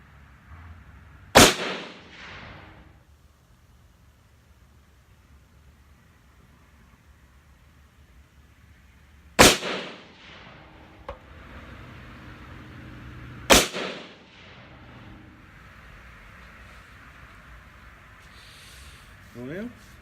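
Three sharp, loud rifle gunshots ring out alone at spaced intervals while a coyote rifle is sighted in outdoors, each crack followed by a brief decaying echo against quiet background.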